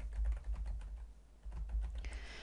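A computer keyboard is typed on briefly while a query name is entered in Microsoft Access, giving a quick run of soft, close key clicks with a short pause midway.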